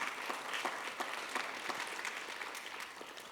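Quiet applause from the audience at a physical therapy assistant program graduation, a soft scattered patter of many hands that fades slightly toward the end.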